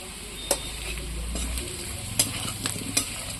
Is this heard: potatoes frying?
yes